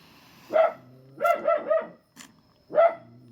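A dog barks nearby in short bursts: a single bark, a quick run of three, then one more after a pause.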